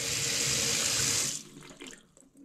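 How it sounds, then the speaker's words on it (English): Water from a stainless steel faucet with a drinking-water filter runs straight down into a sink, a steady loud rush that cuts off after about a second and a half, leaving faint drips. "as we turn the water on,"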